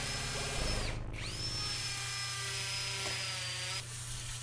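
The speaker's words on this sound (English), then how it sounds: "I went ahead and drilled all the rest of the holes I needed to drill to install all the remaining shelves" A power drill bores holes into concrete for installing shelves, a steady high motor whine that dips briefly when the drill is pulled back, then runs on evenly and stops near the end.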